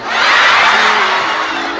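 Audience at an Indonesian Islamic sermon by Ustad Das'ad Latif breaks into a loud, dense wash of cheering and crowd noise, swelling quickly and holding steady before easing slightly, with no speech over it.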